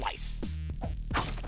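Melee slicing attacks in Hotline Miami sound as a quick series of sharp whacks and swishes, close and punchy, over a thumping in-game music bed.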